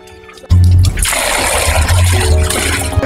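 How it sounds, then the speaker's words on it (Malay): Villagers in Shamrock Village, Nyabira, Zimbabwe draw water from a village well: after a quiet start, a loud sudden gush of pouring and splashing water continues close by with low thuds beneath. "beginilah cara penduduk-penduduk di sini, di kampung ini, mengambil air daripada telaga ini"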